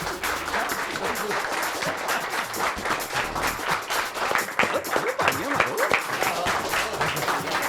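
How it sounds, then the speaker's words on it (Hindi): Office colleagues break into steady, close applause at a workplace celebration, sustained dense clapping for the whole stretch with voices chattering and calling out over it. "ओ भाई तालियां एवरीबॉडी"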